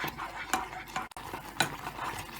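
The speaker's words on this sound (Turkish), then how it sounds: "Daha sonra da kuplarımın üzerine birer ikişer kaşık koyacağım" Cherry jelly being spooned from a pan onto cups of pudding, with faint scrapes and light clinks of a spoon against the container in a few soft, separate strokes over quiet background.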